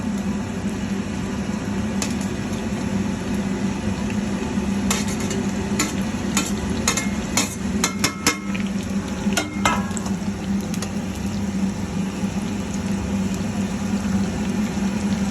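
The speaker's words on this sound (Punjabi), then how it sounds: "ਇਸ ਤੋਂ ਬਾਅਦ ਮੈਂ ਪਕੌੜੇ ਦੁਬਾਰਾ ਜਿਹੜਾ ਕੜਾਈ 'ਚ ਪਾ ਰਹੇ ਆ" Bitter gourd pakoras frying in oil in a kadai, a steady bubbling sizzle with a low hum beneath it and a cluster of sharp crackles and spoon clicks in the middle stretch.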